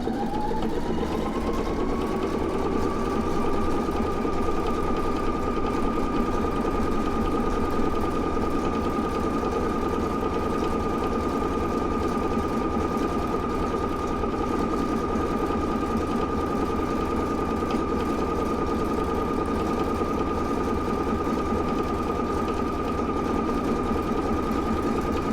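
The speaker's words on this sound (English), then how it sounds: "it will taper that stitch to start with, and then it will carry on sewing until I hit that reverse button" A Pfaff Creative Icon 2 sewing machine runs steadily for the whole stretch, its motor whirring at a constant, close, moderately loud pitch while it stitches a tapered stitch, with no speech.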